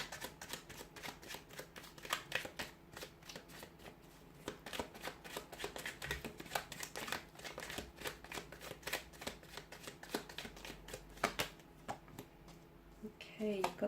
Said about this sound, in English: we'll give the card a shuffle